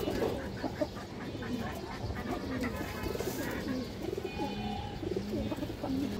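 Pigeons of high-flying breeds coo repeatedly in a loft, soft rolling calls overlapping close by against a busy background murmur.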